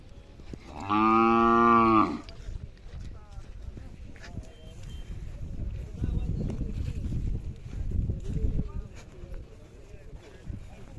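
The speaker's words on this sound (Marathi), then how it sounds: "अशा प्रकारची खोंड आहेत पाहू शकता" Khillar cattle and young bulls at a busy livestock fair, one loud, sustained moo near the start followed by crowd murmur and people talking in the background.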